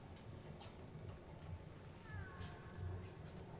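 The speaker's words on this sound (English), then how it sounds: "the echo of the cat" A cat meows with a reverberant echo in an underground setting of the Spider-Man: Miles Morales video game, a short rising cry heard over a low rumbling ambience.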